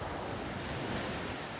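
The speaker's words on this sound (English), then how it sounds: "as we walk through the edge of the waves" Ocean waves washing along the shore at a beach, a continuous loud rush of surf mixed with wind buffeting the microphone, with no voices.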